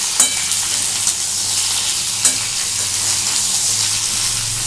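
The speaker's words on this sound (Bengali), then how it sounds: "এটা এখন একটু ভাজবো তারপর তোমাদেরকে দেখাবো" Ridge gourd frying in oil with salt, a loud continuous close-up sizzle marked by a couple of sharp stirring clicks, no voices.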